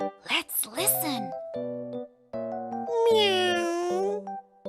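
A voice imitates a cat, giving several drawn-out meows in a children's animal-sounds lesson, close and fairly loud, with someone speaking between them.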